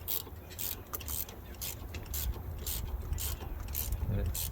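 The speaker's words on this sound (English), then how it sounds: "You can watch that pulley come off." Repeated metallic clicking and ratcheting as a pulley comes off a 2012 Ford Fusion engine, with rhythmic bright bursts over a low mechanical rumble, close by and fairly quiet.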